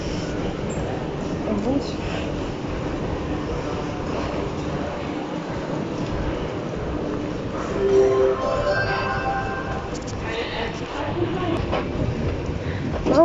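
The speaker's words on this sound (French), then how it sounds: "on est dans le métro de Palais Justice" An underground metro train at Palais de Justice station rumbles along in a steady low roar, with faint metallic clinks and squeals rising briefly, while people talk over it.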